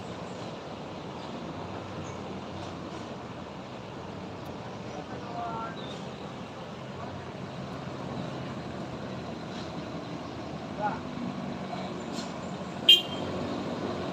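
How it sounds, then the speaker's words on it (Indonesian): Red CPO tanker trucks pass in convoy on the Sitinjau Lauik mountain road, a steady distant engine rumble under traffic noise, with a short horn toot near the end. "Truk tangki CPO merah konvoy pagi ini melewati lintasan viral Sitinjau Lawi."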